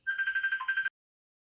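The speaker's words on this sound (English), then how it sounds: "my phone's ringing" A phone rings in a steady trilling electronic burst lasting under a second, loud and close, then cuts off into silence.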